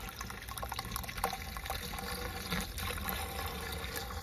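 Water pours steadily into a wicking garden bed being filled, a dense, continuous rushing and splashing that stays at an even level throughout, with no voices.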